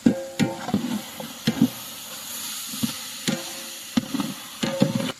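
Duck meat for biryani fries in hot oil in a pot, with a steady soft sizzle underneath and intermittent stirring clatter and scrapes spread across the clip.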